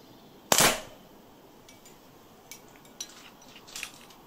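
A firework canister fires a single sharp loud shot near the start, followed by a few fainter cracks and pops trailing off in the distance.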